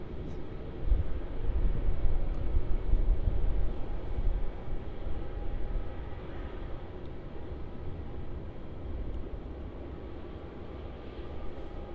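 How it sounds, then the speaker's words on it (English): A Philippine Airlines Airbus A330 rolling for departure on runway 34 at Melbourne Airport, a broad, deep jet engine roar that swells early and then holds as a steady distant rumble. "Here goes that PAL 330."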